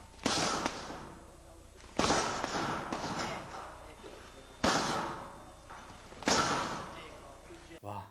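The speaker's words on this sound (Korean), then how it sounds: "이거 펀치에서 총소리가 나죠" Four sharp, loud cracks spaced a second or two apart, each a sudden broadband impact followed by a brief roar: Mike Tyson's boxing punches landing with a gunshot-like snap in training.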